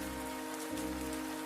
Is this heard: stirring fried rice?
no